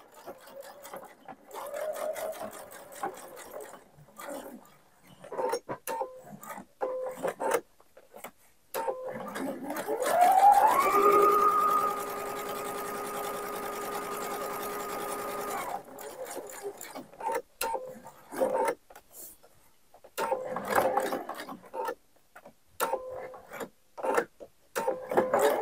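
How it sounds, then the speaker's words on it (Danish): Domestic sewing machine stitching topstitching around the edges of a patch pocket, a quiet mechanical whir running several seconds amid soft handling clicks and rustles. "Så er jeg klar til at sy stikningen rundt i kanten på de tre sider."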